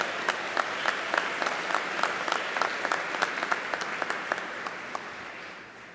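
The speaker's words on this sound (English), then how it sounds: "Go ahead and clap" An audience at a TWU graduation ceremony applauds steadily for a graduate receiving two master's degrees, a dense wash of clapping with sharper individual claps standing out, holding fairly even before thinning slightly toward the end.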